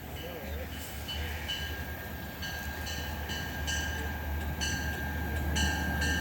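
A Metro-North train pulls into New Hamburg station on the Hudson Line, with a steady low rumble of rolling cars and periodic high squeals and clicks from the wheels. It stays loud and continuous throughout as the train draws in close.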